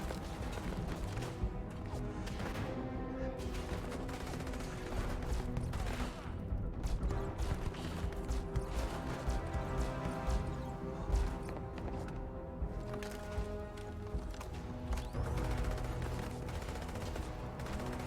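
Laser rifle fire in the video game Starfield, a dense, sustained run of rapid shots and crackling impacts over busy game noise throughout, loud and close.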